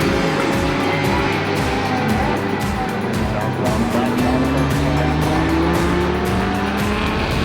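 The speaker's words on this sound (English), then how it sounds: "We are back racing at the Road America with International GT." GT race cars howl around Road America in close succession, engines rising and falling through the gears with some tire squeal, loud and continuous, while a voice talks underneath.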